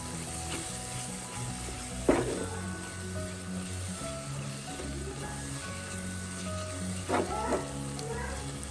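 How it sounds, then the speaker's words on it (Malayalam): Black pepper powder masala sautéing in hot oil for a Kerala poricha chicken curry, giving a steady close sizzle with a couple of brief stirring scrapes and no voices. "അര ടീസ്പൂൺ കുരുമുളക് പൊടി ഇത്രയും ചേർത്ത് നമുക്ക് നല്ലപോലെ ഒന്ന് വഴറ്റാം"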